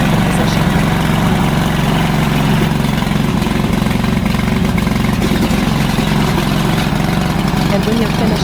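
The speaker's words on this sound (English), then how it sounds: "When it's time to start the engine, there are 3 methods to start the gasoline engine." Gasoline engine on a brushless remote control crawler weed mower, VTC550-90, running at a steady loud idle, a constant close drone with no pauses.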